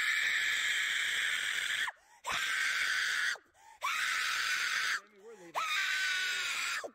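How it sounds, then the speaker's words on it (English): A woman screams at police in long, piercing shrieks, four sustained bursts separated by short gasping pauses, loud and close. "Especially when you're going to scream like that."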